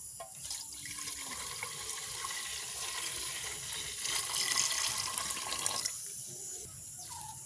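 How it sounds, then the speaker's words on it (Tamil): Squeezed coconut milk pours steadily into a cooking pot in a village kitchen, a continuous liquid stream that swells in the middle and then stops, close and moderately loud. "இப்போ நாங்கள் திருவி புளிஞ்சு வச்சுக்கிற பாலை விடுவோம் தேங்காய் பால்"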